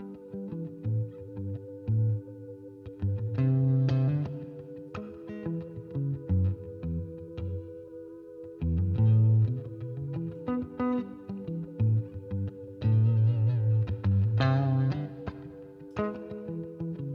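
An electric guitar runs through a multi-effects unit set for drive and reverb. Distorted chords and riffs ring out in bursts with sustained tails and short pauses between phrases, played alone at moderate volume.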